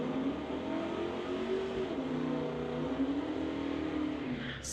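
Two cars drag race down a strip: a 2009 Subaru against a 2017 BMW M240. One steady engine drone holds at middle distance and rises slightly in pitch as it accelerates, fairly faint.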